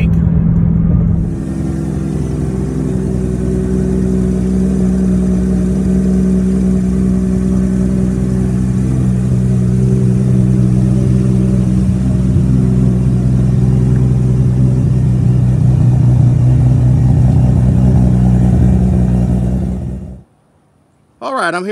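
A 1994 Toyota Supra tuned to 1000 horsepower idles and revs loudly up close, a deep steady engine drone for about twenty seconds before cutting off, followed by a brief voice.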